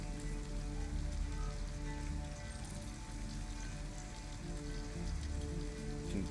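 Rain falls steadily in Detroit: Become Human, a continuous soft hiss of drops striking surfaces under a low droning hum, quiet and even throughout with no voices.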